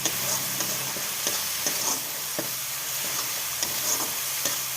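Spice masala stir-fried in a pan for a Bengali dish, a continuous close sizzle broken by regular scraping strokes of a spatula every half second or so, with no voices.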